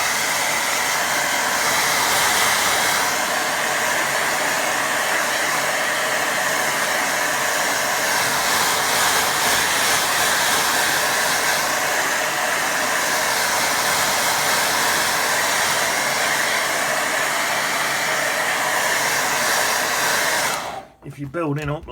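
Hair dryer blowing steadily on a watercolour painting of a stream, a loud continuous roar that runs unbroken for most of the clip before cutting off near the end.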